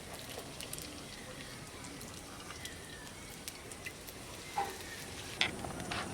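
Raj kachori fries in hot oil in a home kitchen, a faint, steady sizzle with occasional soft pops and light clinks against the pan.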